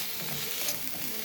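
Small onions and chopped green chillies with salt are sautéed in a frying pan, giving a steady, close, bright sizzle with no talking.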